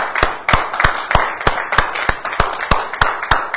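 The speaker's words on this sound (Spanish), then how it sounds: "aplaudo al Rey" Congregation clapping in steady rhythm inside a church during a Spanish-language sermon, about twelve sharp, loud claps in a regular beat with no voices over them.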